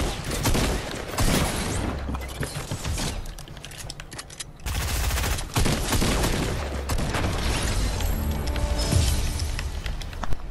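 Sniper gunfire in a first-person shooter video game, with repeated loud shots and bursts of gunfire mixed into busy game noise.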